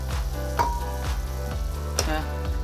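Cashew curry bubbles and sizzles loudly in a kadhai as it is mixed, with a steady, repeated rhythm of stirring strokes and one sharper scrape near the end.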